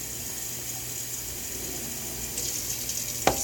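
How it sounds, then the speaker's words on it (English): Warm water runs steadily from a tap into canning jars packed with fresh green beans, a continuous hiss with no talk and a single sharp clink near the end. "I'm just filling them up with warm water"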